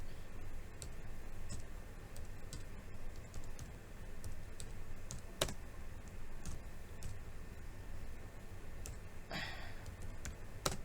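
Keystrokes tapped out in short scattered bursts on a computer keyboard while entering a company name in SolidWorks, crisp clicks over a steady background hum with a single louder tap partway through.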